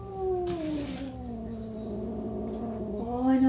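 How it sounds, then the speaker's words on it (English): Formerly feral cat giving a long, low, wavering growl that rises into a drawn-out yowl at the end, close and continuous, with a brief rustle near the start. "A little growl."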